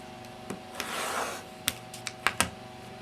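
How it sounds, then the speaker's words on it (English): A rotary cutter slices quilt fabric strips at a 45-degree angle on a cutting mat, with a soft drawn-out rasp followed by several quick, sharp clicks and taps at close range. "Notice how easy it is to cut these strips."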